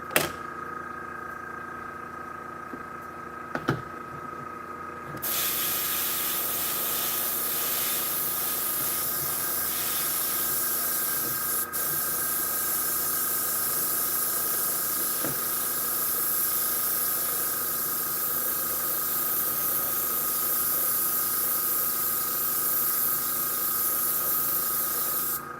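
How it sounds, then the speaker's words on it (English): Steady hiss of an airbrush spraying paint onto small Gaslands templates, starting after a few quiet seconds with a faint click and holding at an even, close, moderately loud level. "We are airbrushing these."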